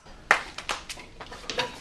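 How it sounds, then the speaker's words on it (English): A class clapping during a school safety skit, heard as a ragged handful of sharp, separate claps over about two seconds in a small room, with no talk over them. "two claps."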